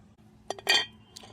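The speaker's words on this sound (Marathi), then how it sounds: "आता तवा ठेवून घेते" A metal griddle (tawa) is set down on a stove, giving a few short metallic clinks and clanks close by, the loudest in the middle, against a quiet background.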